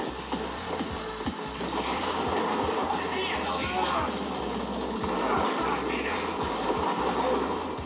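A metro train rumbles through the tunnels of the video game Metro Exodus with a continuous loud roar and a regular clickety-clack of wheels over rail joints.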